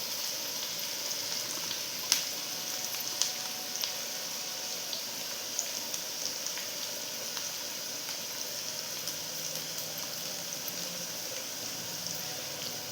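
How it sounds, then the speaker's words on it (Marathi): Onion sautéing in a pan for idli upma gives a soft continuous sizzle with occasional light clicks and utensil taps, fairly quiet and close, no talking. "इथे कांदा आपण परतवून घेतोय"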